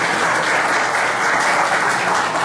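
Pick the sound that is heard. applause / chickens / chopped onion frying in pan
applause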